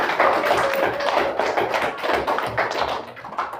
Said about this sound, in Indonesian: Tepuk tangan dulu untuk si Naomi